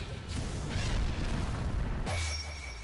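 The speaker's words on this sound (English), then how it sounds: "Blood demon art. Finishing cuts! Exploding blood." An exploding blood demon art attack in the Demon Slayer: Kimetsu no Yaiba – The Hinokami Chronicles video game produces a dense, rumbling burst that swells, then a sharp second impact with a ringing tail near the end.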